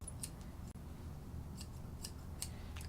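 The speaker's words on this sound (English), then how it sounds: "With the straight or the curved scissors you do that?" Scissors snip the end of a poodle's tail to round it off, a few crisp metallic cuts spaced irregularly over a quiet room.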